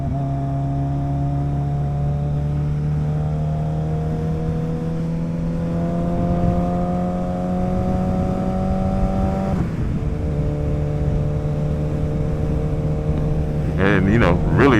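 A Suzuki Hayabusa motorcycle engine drones loudly and steadily while riding, its pitch climbing gradually, dropping sharply as the rider shifts, then holding. A quick rising rev comes at the end.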